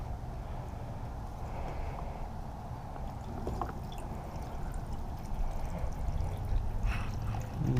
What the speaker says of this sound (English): we're just gonna dump out the reservoir tank